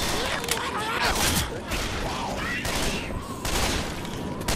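Rapid bursts of gunfire fill a fight in the video game Left 4 Dead 2, loud overlapping shots and booms with shouting voices mixed in.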